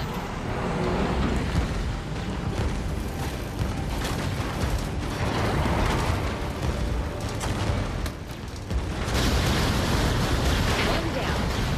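A cannon fires in the VR mech game Vox Machinae with heavy booming blasts over a constant rumbling battle din, and voices talk across the scene.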